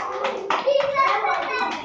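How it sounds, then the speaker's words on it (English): Children clapping their hands along to an action song at a Pongal celebration, a few quick bursts of claps mixed with young voices singing and speaking. "Clap your hands."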